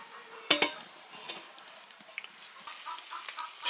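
A metal kadai (wok) set back down on a home kitchen stove while cooking chicken curry, one sharp clank followed by a few light metallic clinks and scrapes, close and fairly quiet.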